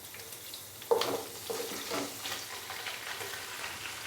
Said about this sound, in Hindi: तो अभी मैं इसके अंदर चिकन डाल दूंगा।